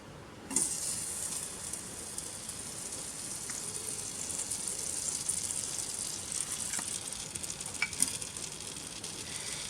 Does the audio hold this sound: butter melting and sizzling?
yes